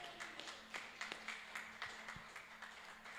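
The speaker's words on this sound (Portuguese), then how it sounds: "E as palmas louvam ao Senhor." Congregation at a church worship service clapping in praise, a soft, fairly distant rhythmic patter of hands keeping a steady beat, quiet and slightly reverberant.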